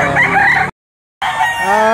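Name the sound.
rooster crowing at livestock auction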